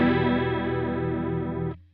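Electric guitar through a Truetone H2O Liquid Chorus pedal with the tone knob fully clockwise, a sustained chord shimmering with bright, wavering chorus, close and alone before cutting off.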